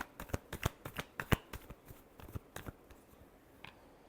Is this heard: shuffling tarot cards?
yes